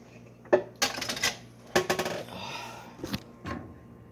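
Dishes are hand-washed in a sink with no running water: ceramic and metal clinks and clatters come up close in irregular bursts, with short pauses between knocks of plates, pots and cutlery.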